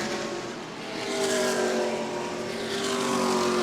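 E-Mod race cars at New Smyrna speedway, engines droning steadily at a distance and swelling as cars pass through the corner, with no talk.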